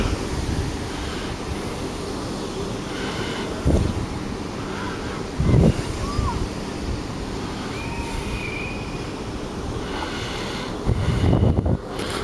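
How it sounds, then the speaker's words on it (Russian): Wind blows steadily outdoors as a broad, rushing roar, swelling in several stronger gusts over the continuous noise, with no clear talking. "А ветерочек хоть поднялся."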